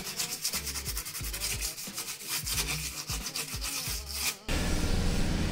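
A valve seat surface on a bathroom washbasin tap fitting gets scrubbed by hand, making a close, rhythmic back-and-forth rasping of quick strokes, followed by a short burst of softer, even noise.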